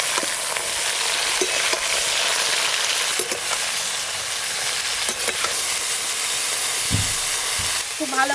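Ridge gourd and shrimp with spices frying hard in a hot pan, a loud, steady sizzle throughout with occasional stirring scrapes and a few clanks near the end, up close.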